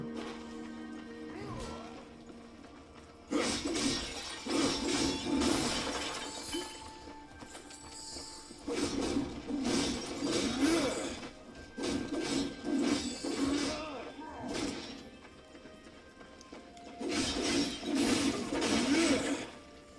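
Pods smashed in the video game Darksiders 2 give repeated bursts of shattering and breaking, loud and close, arriving in several separate clusters against a background of game music and ambience.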